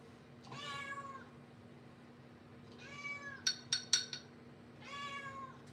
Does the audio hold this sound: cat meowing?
yes